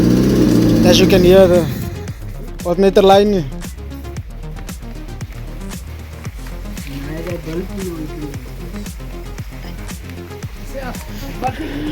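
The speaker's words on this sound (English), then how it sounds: "It's idling now. The engine is back." Hyundai Getz with a newly installed engine idles under a regular ticking pulse, while people talk over it in the first seconds and again briefly before the engine carries on alone.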